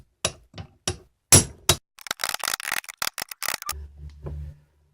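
Hammer blows knock a bearing out of an oil filter housing: a few sharp, separate metallic strikes, then a rapid close-up flurry of clanging hits, ending in a low hum.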